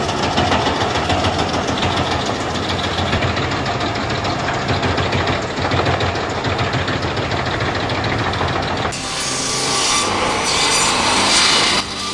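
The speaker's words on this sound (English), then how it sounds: "The New Holland TD 5010 and this automatic circular saw are a perfect team, pumping out about 5 cords per hour." An automatic circular saw cutting firewood logs, driven by a New Holland TD5010 tractor, a dense, loud grinding and rasping roar with a running engine beneath, continuous, shifting to a brighter hiss near the end.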